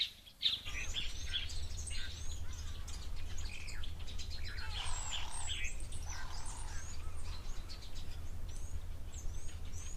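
Birds call at a waterhole in Madikwe Game Reserve, with a busy mix of chirps and tweets overlapping against a low steady rumble of background noise and no talk.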